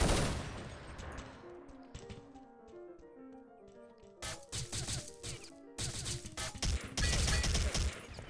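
Bursts of video-game gunfire from a tactical shooter match, sharp cracking shots in clustered volleys over a background music bed, growing denser and louder toward the end with no talk.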